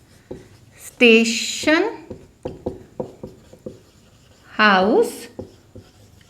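Marker strokes on a board in a Hindi-medium grammar lesson, a series of short, close scratchy taps and squeaks between a woman's spoken phrases, with her voice rising over them twice.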